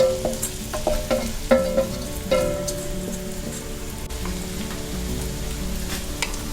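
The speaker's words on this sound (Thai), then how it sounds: "แล้วเราก็เทมันฝรั่งที่เราผสมไว้เมื่อกี้นี้นะคะ ลงได้เลยค่ะ" Potato mixture hits hot oil in a pan and fries, giving a crackling, spattering sizzle with sharp pops early on that settle into an even, continuous hiss.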